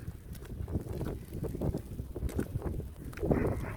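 Strong wind gusting during snowfall in Nuremberg in winter, buffeting the microphone with a rough, uneven roar that swells and fades across the clip.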